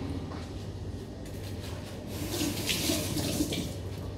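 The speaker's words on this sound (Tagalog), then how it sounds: "Kasi lalagay natin yung toyo at suka" Soy sauce and vinegar pour steadily into a cooking dish, a continuous soft trickling and splashing that holds an even level throughout.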